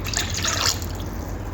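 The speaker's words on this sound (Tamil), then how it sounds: "1 கிளாஸ் தண்ணி ஊற்றியாச்சு." Water poured from a glass into lemon juice being mixed in a bowl, a short splashing pour close by that trails off into faint dripping, with no talk.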